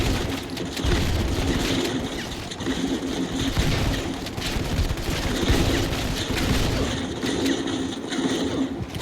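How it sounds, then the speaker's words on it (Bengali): Shotgun fire and other gunfire from Modern Combat 5 gameplay, heard as repeated sharp bursts over a dense, busy game soundscape that keeps going throughout. "শটগান দিয়ে হেডশট মানে একটা মজাই আলাদা"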